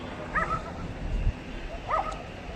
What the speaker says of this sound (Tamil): தெருநாய் எல்லாம் ரொம்ப அதிகமாக இருக்கு.